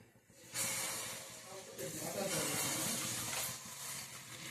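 Maida flour bonda batter dropped into hot frying oil gives a steady, loud sizzling hiss that swells again partway through, heard close up with no talking.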